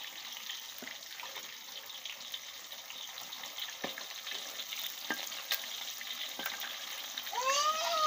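Sea bass frying in oil over a wood-fired stove, a dense continuous sizzle with occasional crackles and pops, closing with a brief rising whistle-like tone.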